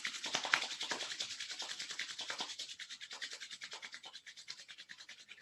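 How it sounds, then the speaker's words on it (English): Palms rubbed briskly together to warm them during a gentle mindful movement session, a steady run of close, soft swishing strokes in a quick even rhythm, alone with no talking. "We're going to take our hands and we're going to rub some warmth into the palms of the hands."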